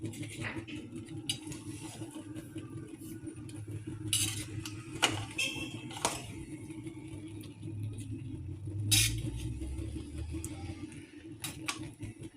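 A spoon mixes mewa chana rice and meat in a cooking pot, giving faint scattered clinks and scrapes of metal on metal over a quiet background.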